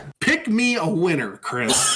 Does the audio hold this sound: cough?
yes